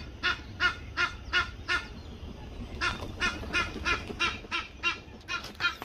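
Geese honk repeatedly in bursts, a loose rhythmic series of calls, then a short pause and another run of honking, moderately close outdoors.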